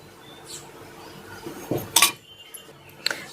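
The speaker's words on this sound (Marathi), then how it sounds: "आता इथं आपल्याला सगळं पूर्ण दही ते काढून घ्यायचं आहे असं चमच्याने काढून घ्यायचं" A metal spoon scrapes and clinks against a bowl while lifting out set yogurt curd for homemade shrikhand, giving a few sharp isolated clinks and brief scrapes against a quiet background.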